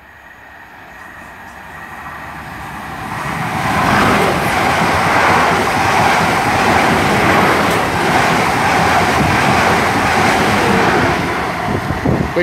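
A passenger train on a London Waterloo service from Weymouth passes Beaulieu Road station, building from a distant approach into a loud, sustained rushing roar of wheels and air with heavy wind buffeting, no talking.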